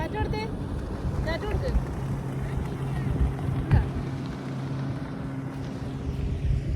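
A speedboat engine drones steadily under heavy wind noise on open water in Abu Dhabi, with a few faint voices breaking through.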